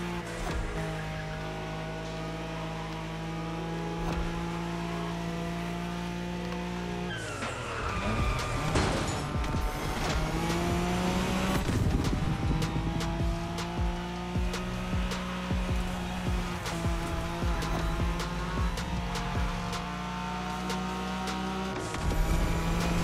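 A Nissan Skyline races flat out along the Wangan highway in Tokyo in The Crew Motorfest, its loud engine droning and rising through gear changes while tires squeal and skid, with a brief drop in revs partway through.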